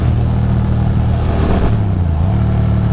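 An old motorcycle cruising on an open road, its engine a loud steady drone that dips briefly as the rider shifts, with wind rush throughout and no voices.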